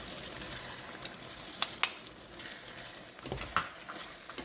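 Corn and peas sizzle in a frying pan for a shepherd's pie, with a steady low fry and a few sharp clinks of a utensil against the pan as they are stirred.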